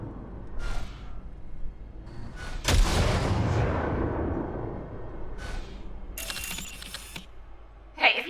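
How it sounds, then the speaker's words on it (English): A short burst of gunfire fired into a junk pile during weapon calibration in Cyberpunk 2077, a loud close blast that rolls off, with brief sharp mechanical clicks and a later crackle. "See that pile of junk? Fire a short burst into it."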